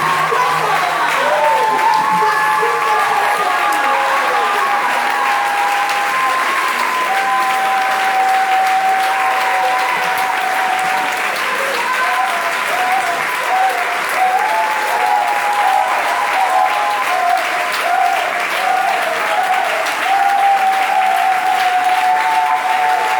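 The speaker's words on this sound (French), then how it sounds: "Je demande à l'Assemblée de Dieu d'acclamer fort Dieu" A church congregation at a Sunday sermon claps loudly and steadily for God, sustained applause with scattered shouts and whoops running throughout at close range.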